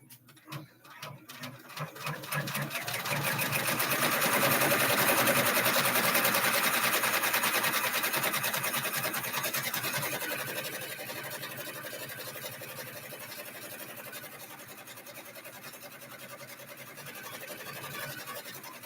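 An embroidery machine stitches a chimney design onto a bag with a rapid, steady mechanical needle chatter that swells and then settles, running continuously across the span with faint background voices.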